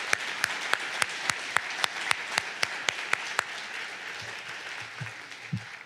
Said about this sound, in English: Can we get a round of applause for all the people that have helped these incredible humans?